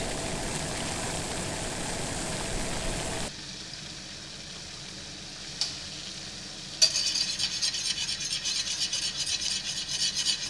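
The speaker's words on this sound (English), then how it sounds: "I'm adding the polenta, stirring continuously." Polenta stirred continuously into boiling water in a pot. A close, steady rasping scrape of the spoon and bubbling fill the clip, going quieter partway through, then returning brighter and louder after a single sharp knock.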